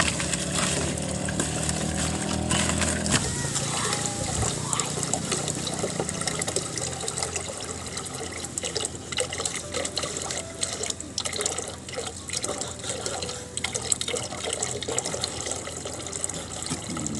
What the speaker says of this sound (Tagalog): saka natin ihalbusan siya ng tubig na mainit